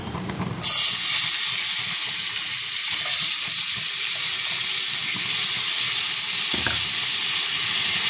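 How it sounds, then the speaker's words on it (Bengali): Onions frying in oil and ghee for chicken pulao start to sizzle loudly after a brief quiet moment, a steady close hiss that carries on with occasional stirring and no talk. "তেল আর ঘি দিয়ে দিয়েছি। এরপর আমি পেঁয়াজ দেবো,"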